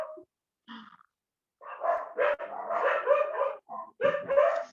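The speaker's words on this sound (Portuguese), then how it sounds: "cachorros latindo" Several dogs bark and yelp in quick bursts, close by, with whiny pitched yips between louder barks and brief quiet gaps.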